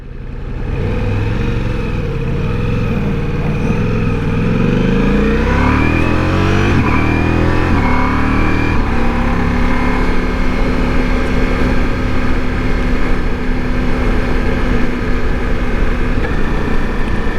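A Ducati Multistrada V4 Rally engine running on only two cylinders, lugging in fifth gear around 3,500 RPM, chugs loud and steady with a deep uneven throb, the pitch rising slightly as the bike pulls.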